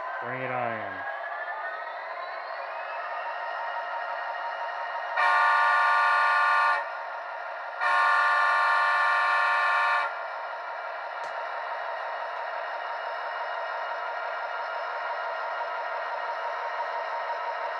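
Horn of an Athearn Genesis 2.0 Canadian Pacific 7022 navy-unit model diesel locomotive: two loud, sustained blasts about two seconds each, separated by a short gap, over a steady high-pitched motor and sound-decoder drone that runs throughout.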